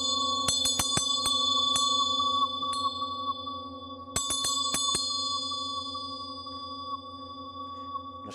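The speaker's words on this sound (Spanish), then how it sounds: "Antes te veía que incorporabas también la campana." Tibetan singing bowl with a bell, sharp metallic strikes in two quick clusters over a long, steady ringing hum that slowly decays, close and resonant in a quiet room.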